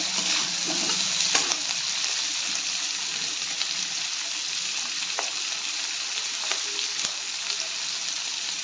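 Onions and capsicum fry in a pan for chilli paneer, giving a constant, close hiss of sizzling oil broken by occasional light stirring clicks.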